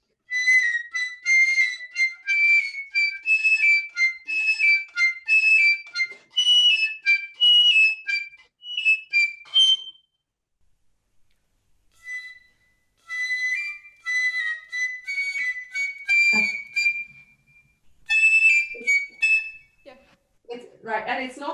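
High, thin whistle-like piccolo harmonics play a run of separate notes, pausing midway and then resuming with a few more phrases and a brief low thump near the end.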